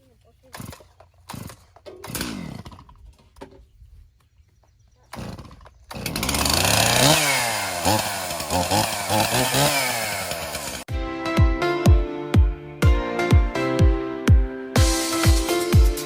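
A chainsaw cuts out a patch of trees. Faint handling noises come first, then the engine roars up loud and close, revving steadily before settling into a pulsing rhythm of rising and falling revs.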